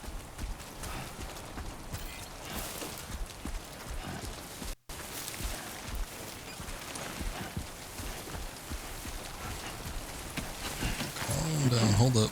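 Steady timefall rain hisses and patters across the landscape in Death Stranding 2: On the Beach, a dense wash of falling drops that runs the whole stretch, briefly cuts out, then swells louder with game tones near the end.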